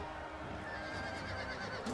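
Horses whinny and snort amid a dense Total War: Attila battle din, a brief, mid-distance burst set in a constant wash of background noise.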